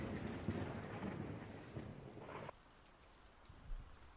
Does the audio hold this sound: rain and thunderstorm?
yes